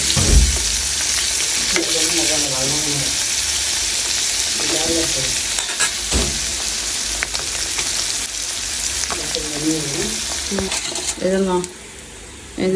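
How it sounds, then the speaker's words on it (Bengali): Sliced onions sizzle in oil in a pan used just before for frying hilsa fish, a continuous crackling fry with occasional stirring scrapes and faint voices in the background. "এখানে হলো আমি পেঁয়াজ দাগানি করতেছি"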